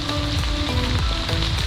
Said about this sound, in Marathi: इथे आता पावसाचं प्रमाण वाढत निघालं